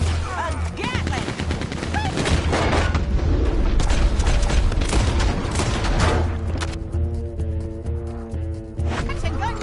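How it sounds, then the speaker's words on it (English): A Gatling gun fires in the video game Red Dead Redemption 2, a loud, sustained, rapid barrage mixed with heavy booms, easing toward the end as a voice comes in. "See there? A Gatling."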